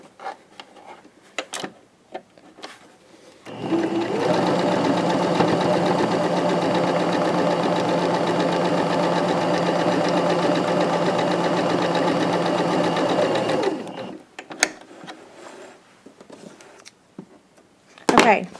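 Sewing machine stitching a rag quilt bag, a close, steady mechanical whirr lasting about ten seconds with quiet handling noises and brief talk before and after.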